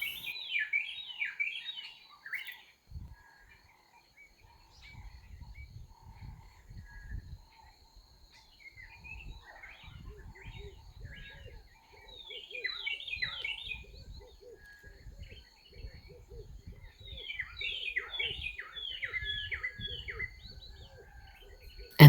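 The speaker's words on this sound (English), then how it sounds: "Starlings, hornbills, francolins, spurfowls, and many more are often seen at a dropping site" Birds calling and chirping around an elephant dung pile in the bush, with bursts of twittering song at the start and again later, faint insect buzzing and crackling in the background throughout.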